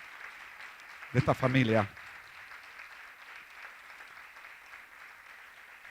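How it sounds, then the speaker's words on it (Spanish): Soft, steady applause from a church congregation welcoming a newcomer, continuing at a moderate distance while someone speaks briefly over it near the start. "yo quiero que le demos un aplauso de bienvenida"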